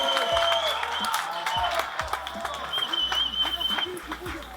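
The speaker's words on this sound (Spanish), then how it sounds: "Y finalmente cuando se van los policías pues aplauden todos" Protesters applauding as police leave a street eviction protest, a scattered outdoor clapping mixed with crowd noise and voices talking over it.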